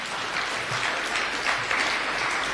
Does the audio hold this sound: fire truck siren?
no